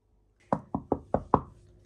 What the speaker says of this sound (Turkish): Barbie kapı çaldı hayatım